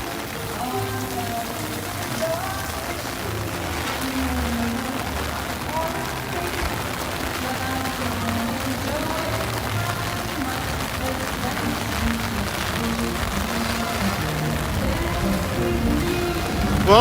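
Heavy rain from Hurricane Milton falls at Universal Orlando as a steady, dense hiss and patter that runs throughout, with people talking over it.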